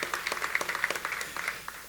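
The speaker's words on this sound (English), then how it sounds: "if we could give a collected round of applause to the elected officials for their service" Scattered clapping from a modest audience at a business breakfast event, distinct individual claps in a quick uneven patter, fairly faint, tapering off toward the end.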